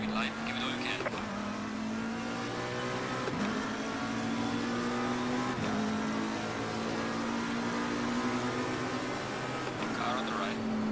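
Race car engine from Assetto Corsa Competizione at the Nürburgring, a loud steady high drone that rises in pitch, drops at each gear shift and climbs again, under continuous engine roar with no voices.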